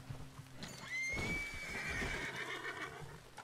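A horse in a video game lets out a loud, long whinny that rises and wavers, with some hoof clops and rustling noise around it.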